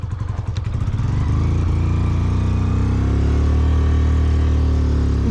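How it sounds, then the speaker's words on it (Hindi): A Hero Super Splendor motorcycle engine held at full throttle in first gear, a loud, close, steady droning rev that builds in the first second and then holds level to the end. "चलो पूरा एक्सीलेटर दबा के बैठे फर्स्ट गियर में।"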